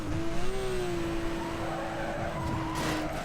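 A Porsche 911 Turbo S in Need for Speed Most Wanted laps a race track, its engine droning steadily as the tyres screech through a corner, loud and close, with no talk.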